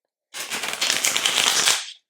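Marseille tarot cards, a deck smaller than standard tarot size, riffled in one continuous papery shuffle of about a second and a half, close and fairly loud, with no talking.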